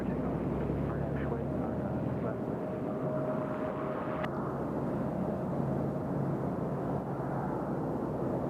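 An airliner takes off from a runway at Nashville International Airport, its engines a loud, constant roar filling the scene with steady broadband rumble, heard from close by with voices speaking underneath.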